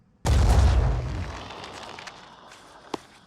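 A Hell Cannon shot in the Phoenix Point strategy game lands as one sudden, heavy boom with a deep low rumble that decays over a couple of seconds, followed by a faint sharp pop near the end.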